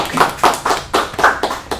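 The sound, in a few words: applause from classmates in a classroom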